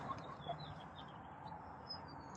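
Chickens milling about inside a coop give soft, scattered clucks and murmurs over a steady background hum, fairly close but low in level throughout.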